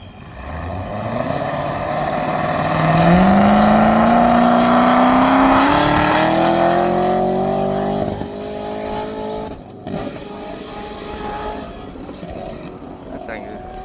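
A turbocharged race car at the E.C.T.A. Firecracker "Arkansas Mile" motorsports event revs hard, its engine pitch climbing steadily for several seconds before dropping away, loud and close, with people talking over it.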